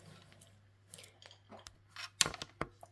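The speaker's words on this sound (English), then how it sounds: "I'm going to cut all 4 of these off." Scissors snip through crocheted tote bag handles, giving a few quiet cuts and then two sharper, louder snips near the end, alone and close up.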